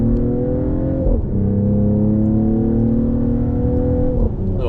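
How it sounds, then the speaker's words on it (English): A 2021 Mercedes-AMG GLE 53 Coupe in Sport Plus mode runs up through the revs under load, its engine note climbing steadily with brief dips at the shifts, loud and close, though no distinct pops stand out. "Little pop, little backfire, little barking."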